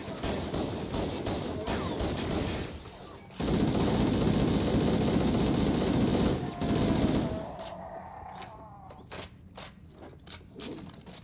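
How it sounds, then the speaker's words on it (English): Rapid bursts of Halo CE pistol fire from the video game, loud and dense at first, then thinning into scattered single shots over a quieter background. "Nothing like that good old classic Halo CE pistol."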